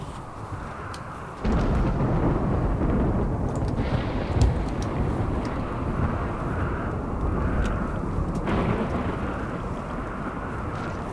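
A sudden roll of thunder following a lightning strike in the RimWorld colony game, rumbling loud and broad for several seconds before slowly fading, with a few sharp crackles near the start and no talk over it.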